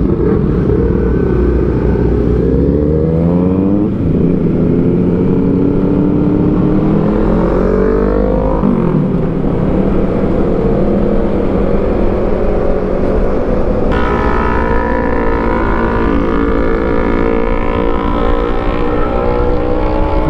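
A Honda ADV 160 motor scooter hums along on a night ride, its engine tone rising and falling steadily through acceleration and gear-free revving, loud and continuous with wind rush throughout.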